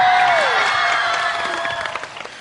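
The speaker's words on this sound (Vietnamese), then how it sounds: "Một tràng pháo tay cho màn chào sân giữa đại Lý Dâu và đại Lý Bắp" Applause from a television game-show audience swells with loud, dense clapping and a tonal musical sting at the start, then gradually fades toward scattered claps.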